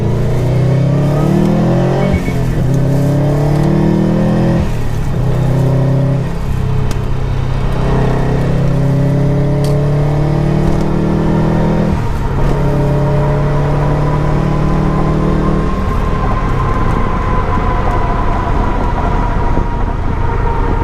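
A 2017 Subaru WRX STI with a Stage 2 tune revs hard and climbs through the gears on a highway, loud and close, with rising pitch sweeps and brief drops at each shift.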